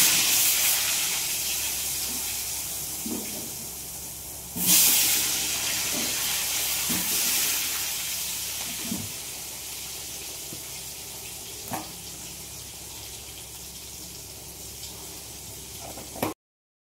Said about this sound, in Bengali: এখানে হচ্ছে মাংসের জন্য আলুগুলো ভেজে নিচ্ছি।